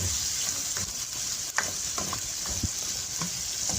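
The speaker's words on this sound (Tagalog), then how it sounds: "Ginisa lang natin to sa butter yung sayote." Chopped chayote sautéing in butter in a pan, a steady low sizzle with a few scattered clicks and scrapes of stirring, close and fairly quiet, no voices.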